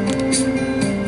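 A noisy air conditioner running, a steady droning hum with a hard tonal buzz that holds constant throughout, close and fairly loud, with no talk.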